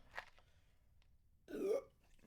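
A single low, rumbling burp rises out of near silence after a swallow of Sprite, close and fairly loud for about half a second, with faint room sound before and after.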